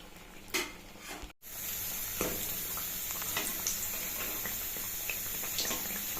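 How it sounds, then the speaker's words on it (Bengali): Eggplant fritters (beguni) deep-frying in hot oil, a steady close sizzle running through most of the clip after a brief dropout, with a few soft clinks of stirring. "বেগুনিটা ভাজা হয়ে গেছে খুব ভালোভাবে"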